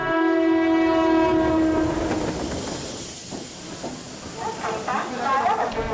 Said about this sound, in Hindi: एक जलद गाडी जाणार आहे.